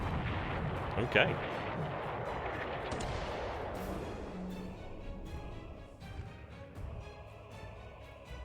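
Naval gunfire of 12cm shells booms in a war strategy game set in an attack on the Japanese homeland, a dense rumbling barrage of repeated shots and blasts under a brief spoken word.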